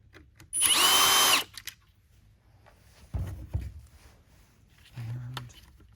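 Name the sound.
screws being removed from Shark IonFlex power nozzle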